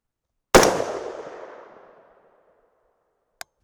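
A rifle fires a reloaded .224 Valkyrie round, giving one sharp, loud crack followed by a long, fading echo, then a brief faint click a few seconds later.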